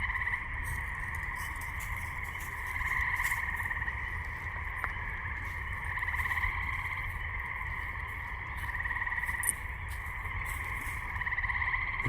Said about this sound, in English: the spring peepers. Let's see if you can hear them.